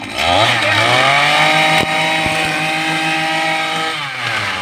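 A gas-powered weed wacker string trimmer buzzes loudly at close range, its engine note rising and falling as the throttle is worked while cutting along edges.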